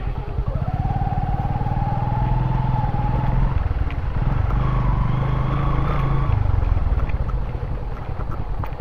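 A motorcycle engine idles and revs nearby, its pitch rising and shifting, loud and steady throughout.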